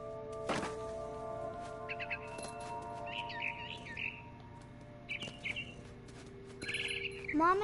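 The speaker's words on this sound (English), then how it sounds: "Then I heard chirping outside my window." A barn swallow chirps and twitters in bursts in the video game What Remains of Edith Finch, the quick calls coming through clearly at moderate level over a low ambient drone with a couple of soft thumps.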